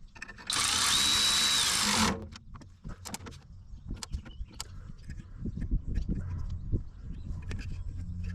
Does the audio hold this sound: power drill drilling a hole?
yes